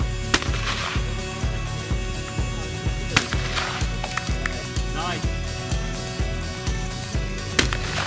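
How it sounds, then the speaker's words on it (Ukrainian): Rapid, repeated gunshots at a hunting shooting tournament in Lviv crack steadily throughout, sharp and loud, over a dense, busy background of impacts. "Ось і пролунав останній постріл на груповому змаганні."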